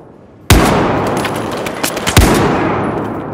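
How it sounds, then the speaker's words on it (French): Gunfire in the Battlefield 4 mission in the Kunlun Mountains booms in two heavy, loud shots with long echoing tails, with smaller cracks between them. "Attention je tire"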